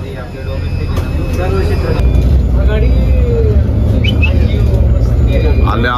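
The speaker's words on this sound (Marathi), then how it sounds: "तर मित्रांनो बस आलेली आहे. बसमध्ये बसून प्लेन पर्यंत जायचं असं आहे ते." An airport bus pulls up to carry passengers out to a plane, its engine a loud, steady low rumble with traffic noise around it while people talk over it.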